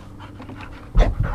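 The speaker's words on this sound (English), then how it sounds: "the crazy ass dog that's about to come jumping into screen here any second" A large dog pants in quick, breathy puffs that rise abruptly as it bounds in close, the breaths growing louder and heavier near the end.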